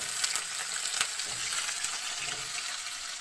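Chopped potato pieces fry in hot oil with nigella seeds for a vegetarian potato and pointed gourd curry, giving a steady close sizzle with soft scraping stirs and faint watery hiss throughout, and no talk.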